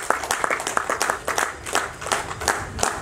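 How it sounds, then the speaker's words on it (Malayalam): An audience claps at a Malayalam stage comedy show, a loose, uneven patter of hand claps rising and falling over a few seconds, with faint crowd murmur underneath. "നിങ്ങൾ എല്ലാവരും ഒന്ന് കൈയടിക്കണം പ്ലീസ്"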